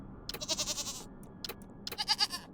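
Goat bleats from the Wasteland 3 video game, two bursts of wavering, nasal cries, the first longer and the second following after a short gap, fairly clear with no talking.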